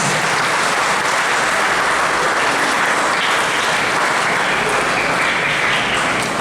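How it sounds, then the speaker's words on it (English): A large audience applauds the Board of Trustees at a school superintendent installation ceremony, loud sustained clapping that fills the hall evenly for several seconds with no speech. "Let us give a round of applause to our Board of Trustees."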